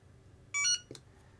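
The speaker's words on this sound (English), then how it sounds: "you'll get the high pitch beep" A single short, high-pitched electronic beep from a Flysky Paladin18 radio transmitter sounds clearly, followed by a faint click, in an otherwise quiet room.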